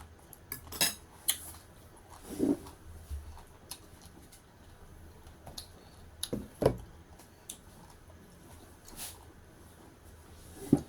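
Green papaya salad made spicy with Karen chili is pounded in a mortar, giving scattered, irregular knocks and clatters at a low level, some sharper than others, over a quiet background.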